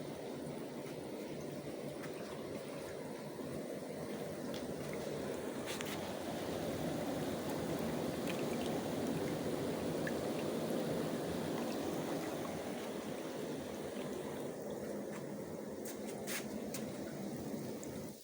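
Water from the massage pump waterfall jets of a five-seat Onyx spa pool pours in a steady, continuous rushing wash, even in level throughout with no voices.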